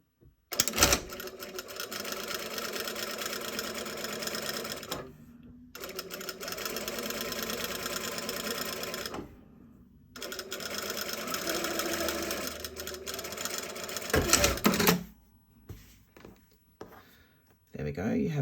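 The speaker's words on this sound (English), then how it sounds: "I'm going to run the inside edge of the presser foot down this folded line as I sew" A sewing machine stitches along a folded line in a seam finish, running steadily in three long bursts separated by brief pauses, loud and close.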